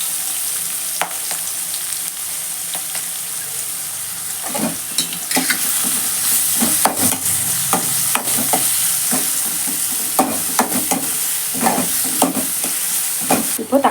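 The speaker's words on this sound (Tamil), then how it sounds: "வெங்காயம் நல்லா வதங்கிடுச்சு" Onions sauté in a pan for samba rava kichadi with garam masala, a continuous close sizzle broken by frequent scraping stirs of a spoon against the pan.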